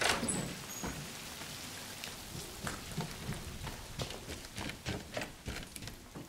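Steady rain falls in a first-person shooter, the Call of Duty Cold War campaign, as a dense, continuous hiss with a patter of distinct drops throughout and no talk.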